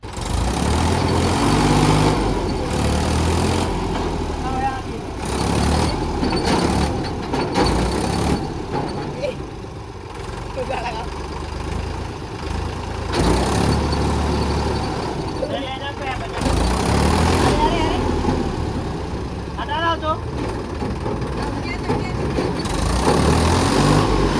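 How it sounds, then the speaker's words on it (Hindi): A Mahindra 265 tractor strains in a tow pull against an Eicher truck held on its handbrake, its engine running loud and steady throughout, with people talking and calling out over the rumble. "मैं इसको खींचूंगा हमारे ट्रैक्टर से हैंड ब्रेक पे, देखो खींच पाते या नहीं।"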